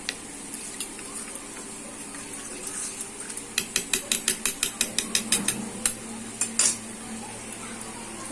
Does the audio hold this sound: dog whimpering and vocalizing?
no